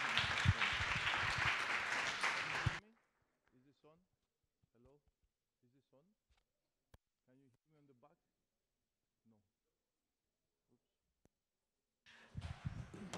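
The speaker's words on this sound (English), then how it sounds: "Could we give Dimitris a warm round of applause, please?" An audience gives a short burst of applause to welcome a speaker at a live talk, loud and dense for about three seconds, then quiet with a few faint sounds before a second burst of clapping near the end.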